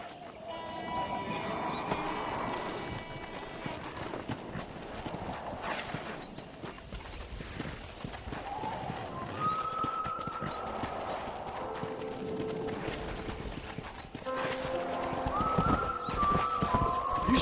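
Horse hooves clip-clop steadily in the Red Dead Redemption video game, with occasional snorts and whinnies over faint birdsong and no talking.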